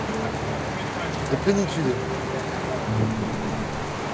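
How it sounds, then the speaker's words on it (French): Heavy rain falls steadily over the Amazon river, a dense hiss under a voice speaking briefly. "dès que la pluie tombe, elle est tellement épaisse que ça vous bouche la vue"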